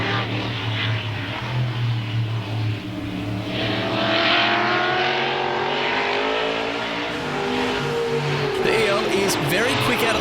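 A Ford Cobra and a Ford EL race car battle on a circuit, engines roaring loudly and rising in pitch as they accelerate down the straight, with a commentator speaking over the noise.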